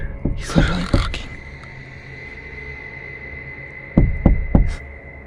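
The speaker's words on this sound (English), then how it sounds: "He's literally knocking." Several sharp knocks on a door, two clustered near the start and a quicker run of three near the end, loud and close against a steady low hum with no talking.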